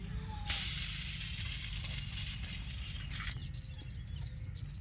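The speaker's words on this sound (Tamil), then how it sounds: "தோசை ஊற்றுறோம் பாருங்கள்" Dosa batter made from ground mudakathan leaves hits a hot pan with a soft, steady sizzling hiss up close. A sharper crackling sizzle joins partway through.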